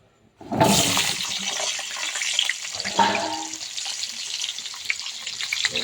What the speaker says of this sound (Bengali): কেটে রাখা সবজিগুলোকে ভালো করে ভেজে নেব লাল করে।